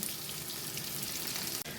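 Steady crackling sizzle of onion and carrot frying in a pan, continuous and moderately close, with no talking.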